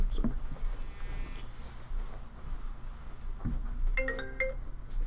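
A phone ringtone plays through a computer indoors during a marketing workshop, with short electronic tone bursts near the end over a steady room hum and low background noise.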